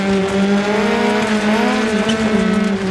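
A Peugeot 205 T16 rally car in Dirt Rally 2.0 drives flat out, its engine holding a loud, close, steady drone with small pitch shifts and no voices.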